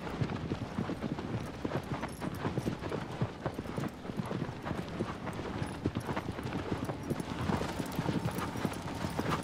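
Horse hooves trotting in the video game Shadow of the Colossus, a steady, busy clip-clop rhythm that runs nonstop, close and fairly loud, with brief voice sounds mixed in.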